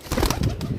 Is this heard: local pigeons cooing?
yes